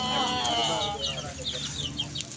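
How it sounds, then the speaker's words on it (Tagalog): Backyard chicken clucking up close in Caloocan City, a steady run of short clucks and calls over a continuous low background. "Manok ito."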